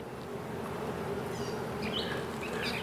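A steady, dense buzz of many honeybees humming together at close range in a queenless hive, with faint higher chirps drifting over it.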